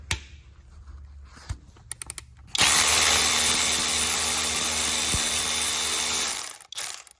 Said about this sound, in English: these are electric ratchets